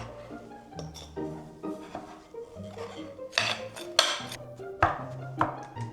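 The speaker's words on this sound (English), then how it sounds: "then I'm gonna take my fork and just really quickly stir" A fork quickly stirring pie dough ingredients in a bowl, giving a run of bright clinks and scrapes of metal against the bowl that turn more rapid and louder toward the end, with no voices.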